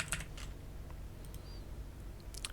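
Keystrokes on a computer keyboard as a command is typed, a short run of quiet, close clicks over a faint steady hum.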